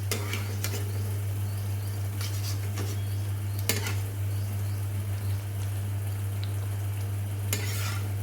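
Bread slices fry in white oil for shahi tukra, a steady, even sizzle under a constant low hum, broken by a few sharp scrapes and clinks of a utensil turning the pieces.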